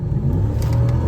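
A Lexus engine revs hard under acceleration with the variable valve timing kicking in, a loud, steady car engine roar that holds strong through the whole short burst.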